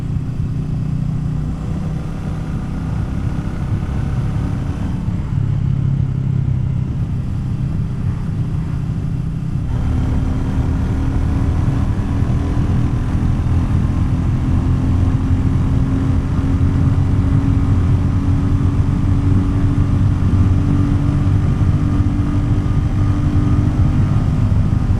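A motorcycle engine hums continuously while riding at around 3300 RPM, with steady drone and wind rush at close range, the pitch shifting slightly partway through.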